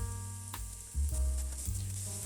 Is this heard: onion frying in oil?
yes